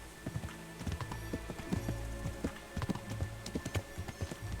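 Irregular hoof clops of a horse in the video game Kingdom Come: Deliverance patter along at a steady trot, close and fairly clear over a low rumbling background.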